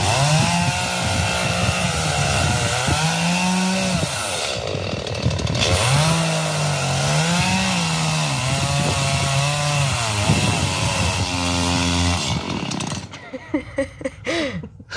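Chainsaw cutting through hurricane debris in a neighborhood, run by a nun: a loud, continuous engine whine that rises and falls as the throttle and load change, steady close up for most of the clip, then sputtering and dropping off near the end.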